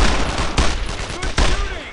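Gunfire crackles in the World War II video game Brothers in Arms: Road to Hill 30, with loud overlapping bursts of rifle and machine-gun shots. Two sharp volleys stand out, and soldiers shout under the firing.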